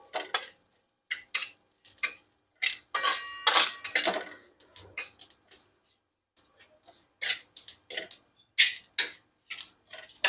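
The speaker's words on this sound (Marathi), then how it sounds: "यातच तीळ टाकून घेतलं तिळही भाजून घेऊ" Sesame seeds are dry-roasted in a pan for a curry leaf chutney, with sparse, irregular clicks and scrapes from stirring and short quiet gaps between bursts, with no talking.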